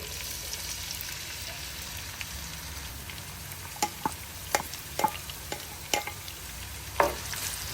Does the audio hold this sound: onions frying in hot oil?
yes